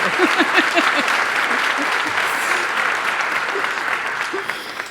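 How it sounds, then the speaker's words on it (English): An audience at a fall university address breaks into loud, sustained applause mixed with cheering and a few whoops, a dense crowd sound that holds for several seconds. "let's cheer for that."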